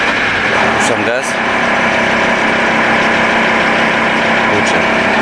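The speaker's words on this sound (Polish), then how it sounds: "Coś mi burczy dziwnie ten samochód." A van with a fault on a road trip in Morocco drones at a low, steady hum after the throttle is released. Someone speaks over the continuous near engine note, with a brief shift in tone partway through.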